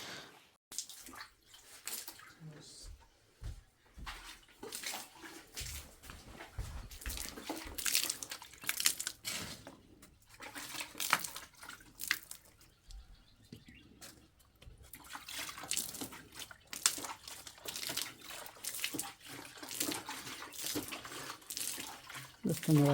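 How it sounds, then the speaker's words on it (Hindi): Water poured by hand over the floor of a renunciant monk's hermit hut at the foot of a hill, splashing in irregular bursts and trickles, fairly close, with occasional voices in the background. "महाराज जी से शुद्धिकरण कर रहे हैं अभी, थोड़ा पानी डाल करके।"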